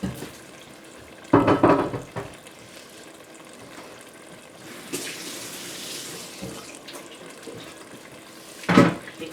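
Running tap water splashes over a part being washed at a sink, a steady faucet stream with a few louder bursts of splashing and handling near the start and end.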